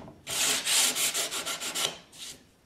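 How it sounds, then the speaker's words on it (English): Sandpaper scrubs by hand across a knotty pine cabinet door in quick rhythmic back-and-forth strokes. The strokes are close and distinct, about eight in a row, followed by a pause and one last stroke. "And take a little bit of sandpaper."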